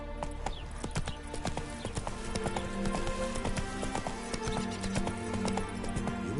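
Hooves clip-clop in a fast, steady rhythm as Roach the horse gallops in The Witcher 3 video game, with game music and faint ambience running underneath.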